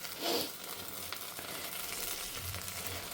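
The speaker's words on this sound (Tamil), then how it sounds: "கடுகு, வெந்தயம், பெருங்காயம் போட்டு பொரிஞ்ச கையோட வெண்டைக்காயை போட்டு வதக்கிட்டேன்" Okra sautéing in hot oil with popped mustard seeds, fenugreek and asafoetida in a home kitchen, a steady soft sizzle with a brief louder crackle near the start and faint clinks.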